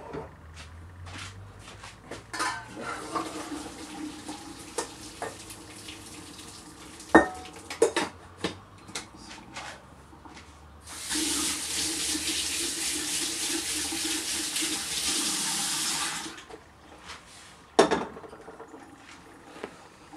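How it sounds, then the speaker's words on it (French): Cooked pasta for a four-cheese dish drained into a colander, hot water pouring in a steady loud rush for about five seconds, set among scattered clinks of pots and utensils in a quiet kitchen. "On va égoutter les pâtes."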